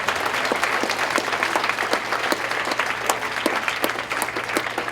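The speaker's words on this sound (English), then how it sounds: "Could you give him a hand clap?" Audience at a teen conference claps steadily for a student, a dense even patter of many hands with sharp individual claps poking through, fairly close and unbroken for several seconds.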